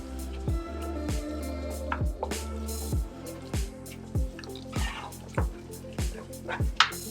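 Cheese stirred into cooked orzo with spinach and mushrooms, making a steady series of wet squelching, sticky strokes at an even, repeated rhythm, close and fairly quiet.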